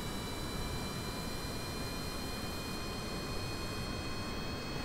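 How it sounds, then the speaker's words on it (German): Jet engine roaring at full thrust on an SSTO spaceplane in Kerbal Space Program, a steady, dense broadband rush with a faint high whine, constant and unbroken throughout with no talk. "Triebwerk ist auf voller Leistung."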